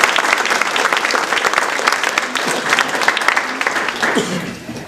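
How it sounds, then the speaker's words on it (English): An audience at a hospital volunteer recognition event gives a round of applause, a close, crisp burst of many individual hand claps that carries on steadily for several seconds. "Let's offer all of them a big round of applause."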